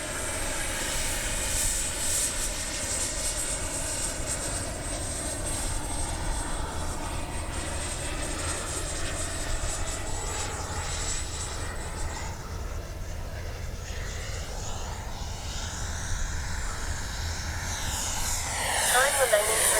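Small twin 64mm ducted-fan RC F-15 jet model flying outdoors, a steady high whining fan roar that holds for the whole stretch and swells slightly near the end as it passes closer.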